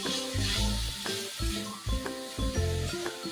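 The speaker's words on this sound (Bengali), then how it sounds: "চিকেন, পেঁয়াজ আর সব মশলা দিয়ে কষাচ্ছি" Chicken mince frying with onion and spices in a pan for a keema dal: a steady sizzle with periodic stirring bursts, heard alone over a tonal background.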